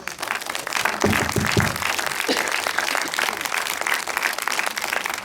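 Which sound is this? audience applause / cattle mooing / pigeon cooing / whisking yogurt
audience applause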